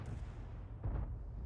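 A T92 HMC artillery tank gun fires a shell in a tank video game, heard as a dull, muffled low boom rising out of steady rumbling background noise, with no voices.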